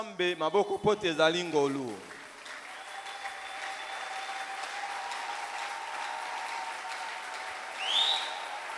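A church congregation bursts into applause to acclaim God, a broad, steady clapping that fills the room and sustains right after a preacher's speech ends, continuing evenly with a brief swell near the close.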